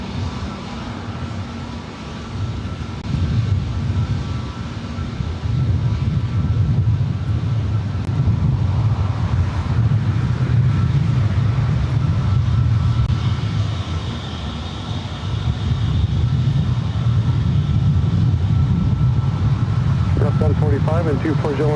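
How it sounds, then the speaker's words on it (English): A Delta Airbus A321neo airliner at Los Angeles International Airport, with a steady, loud jet roar and rumble that swells after a few seconds and holds for about twenty seconds, mixed with wind buffeting. "This flight heading to Seattle on this Delta A321 Neo."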